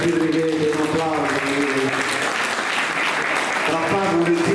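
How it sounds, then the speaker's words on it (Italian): Steady, dense applause from an audience at a poetry competition keeps up evenly for several seconds while a voice speaks over it. "un applauso"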